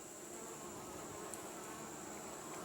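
A continuous, even buzz of many honey bees fills the air, a soft hum with no voices.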